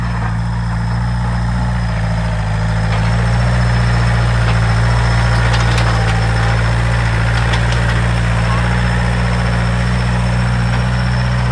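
A used Yanmar 45-horsepower tractor engine, a 2010 model, idles steadily and loudly with a continuous low diesel rumble and slight knocking, heard alone up close throughout.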